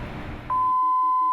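A steady electronic alarm tone cuts in and holds, loud and continuous, from the general alarm of an offshore installation, after a short stretch of muffled background noise.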